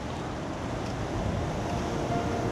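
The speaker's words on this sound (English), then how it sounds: "I like how the tide's coming in, and I've got that curve coming into my frame. That's the shot there as the water flows back out." Tide water washing back out over basalt rocks along the coast of Chiloé, Chile, a steady broad rushing wash of surf with wind noise throughout, fairly close and continuous.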